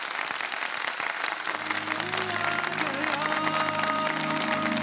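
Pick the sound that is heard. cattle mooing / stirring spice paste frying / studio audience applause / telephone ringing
studio audience applause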